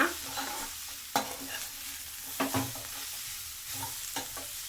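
Turmeric and coriander powder masala stirred in a pan, with a quiet background fry and several distinct spoon scrapes and taps against the pan at irregular intervals.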